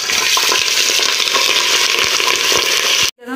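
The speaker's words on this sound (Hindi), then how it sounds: "ऑयल में सबसे पहले मटन डालेंगे" Mutton fries in hot oil with a loud, dense, continuous sizzle close by, and a few light stirring taps before it cuts off abruptly.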